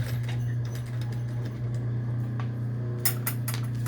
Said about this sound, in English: I'm going to go back and forth over it 3 times to make sure it's stitched in there very securely